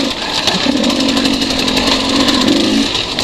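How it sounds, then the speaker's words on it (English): A KTM 200 XCW two-stroke dirt bike engine revs hard on a race lap at the Kahuku Gran Prix, a loud continuous buzzing drone that rises and falls slightly with throttle, close up and filling the whole stretch. "Chef John. Lent me his 200 XCW. Pretty sweet little bike for down here."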